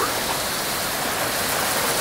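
Heavy monsoon rain in the UK pours down as a dense, even, unbroken roar of hiss that fills the whole moment, loud and close.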